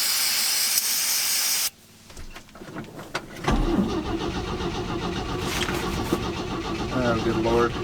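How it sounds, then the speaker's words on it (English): A long-dormant old Chevy C10 truck engine cranks with a loud, harsh, hissing roar, briefly cuts out, then resumes as a sustained, rough, sputtering run close by, with a voice talking over it. "I'm cranking it up enough to where the oil pressure light goes off"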